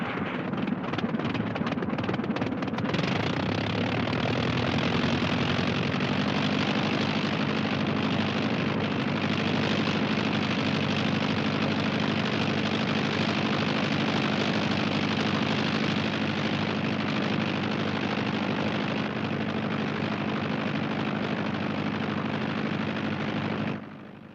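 A light aircraft engine idles on the ground before taxiing, a loud, steady droning roar that swells after a few seconds and holds constant, close by, with no talking over it.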